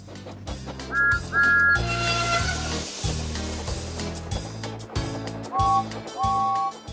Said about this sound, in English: "Peep, peep," he whistled.